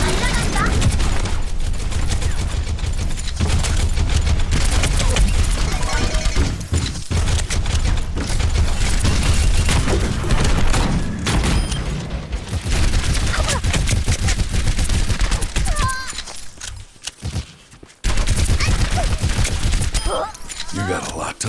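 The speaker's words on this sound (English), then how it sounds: "I want to see how well D.Va's cannons actually can land on an enemy." D.Va's mech cannons in the Overwatch video game fire in a dense, nonstop rapid barrage, loud and continuous with heavy thumping impacts, briefly pausing near the end before resuming.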